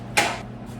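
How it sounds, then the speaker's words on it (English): Cooking spray hissing onto cookie sheets in a home kitchen, a single short, quiet burst of spray that fades within a fraction of a second. "My cookie sheets, I'm just gonna spray with the cooking spray."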